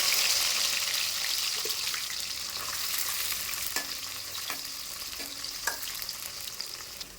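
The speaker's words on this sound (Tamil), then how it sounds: "கடுகு உளுத்தம் பருப்பு தாளிப்புக்காக 150 பூண்டு உரிச்சு சேர்த்துக்கிறேன்" Peeled garlic frying in a generous amount of sesame oil with mustard seeds and urad dal, a steady close sizzle with occasional light stirring taps against the pan.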